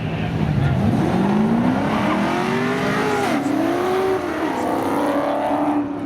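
A 1989 Chevy Camaro and a 1990 Chevy Corvette accelerate hard in a spectator drag race at Seekonk Speedway, loud sustained engine roar with rising and falling pitch as gears change, under an announcer's voice.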